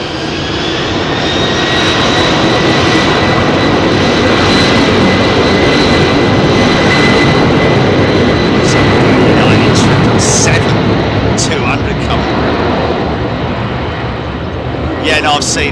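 Jet airliners departing runway 27R at London Heathrow, a steady loud roar of engines at full thrust that holds throughout, with people talking faintly over it.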